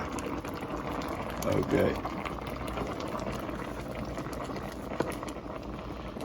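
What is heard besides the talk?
pears boiling in a pot of water with lemon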